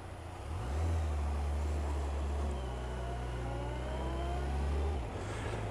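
A 2001 Yamaha FJR 1300 motorcycle engine rumbles steadily and close by. It starts about half a second in, holds a deep even drone, and then cuts off near the five-second mark.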